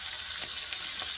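Baby bella mushrooms fry in vegetable oil, giving a steady close hiss with a couple of soft stirring shuffles.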